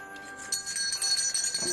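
A doorbell rings in a home at Christmas time, a bright, sustained chime that is fairly quiet and heard alone, with no talk.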